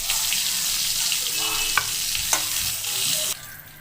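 Eggplant (brinjal) pieces fry in oil with a steady, bright sizzle that carries on throughout, broken by a few sharp clicks of stirring before the sizzle suddenly eases off near the end.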